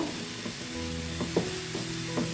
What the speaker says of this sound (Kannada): ಟೊಮೊಟೊ ಚೆನ್ನಾಗಿ ಸಾಫ್ಟಾಗಿ ಹಸಿ ವಾಸನೆ ಎಲ್ಲ ಹೋಗ್ಬೇಕು ಆ ಥರ ನಾವು ಇದನ್ನು ಫ್ರೈ ಮಾಡ್ಕೊಬೇಕು